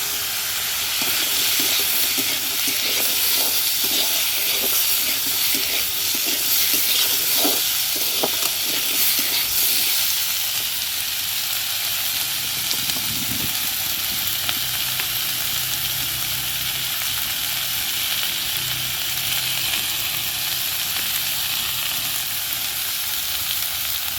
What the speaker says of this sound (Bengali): আলুগুলো দিয়ে দেবো, একসঙ্গে ভাজা হয়ে যাবে।